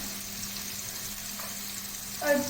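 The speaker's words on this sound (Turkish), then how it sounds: "Şimdi fasulyelerimi dökeceğim yanına." Green beans dropped into onions and tomato paste frying in a pan, a steady close sizzle that briefly swells and crackles louder near the end.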